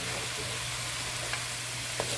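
Thyme being stirred into a sizzling yam stew on the stove, a steady close frying hiss throughout with two faint spoon clicks against the pot.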